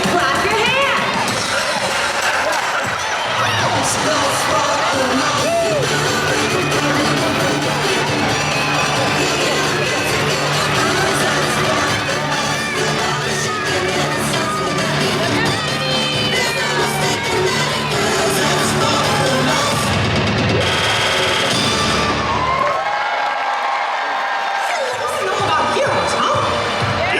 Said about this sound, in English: If you're excited, clap your hands.